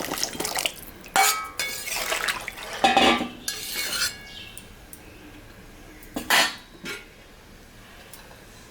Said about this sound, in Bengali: এখন আমি সবজিগুলা দিয়ে দিব।